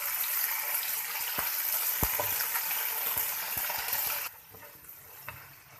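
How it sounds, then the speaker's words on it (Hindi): Tomatoes fry with ginger and garlic for vegetable macaroni, a dense hiss of sizzling oil with scattered pops and stirring clicks, then the sizzle suddenly drops to a quieter simmer near the end. "अब इसके अंदर डालना है टमाटर। टमाटर को इसके साथ भूनेंगे।"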